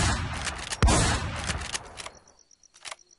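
Gunfire in the online zombie survival game The War Z, a loud close shot with a heavy impact followed by a few fainter shots and clicks as the burst dies away.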